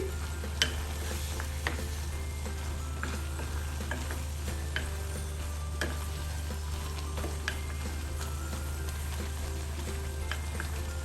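Prawn curry with water lily stems is stirred and turned in a pan, giving a soft continuous sizzle with scattered light clicks and scrapes over a steady low stove hum, close by and fairly quiet.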